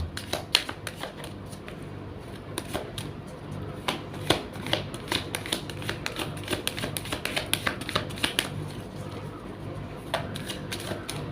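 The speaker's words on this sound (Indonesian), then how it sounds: "Saya shuffle terlebih dahulu." Tarot cards are shuffled by hand at a table, a long run of rapid, crisp flicks and riffles with dense irregular bursts lasting several seconds, close and clear with no speech over them.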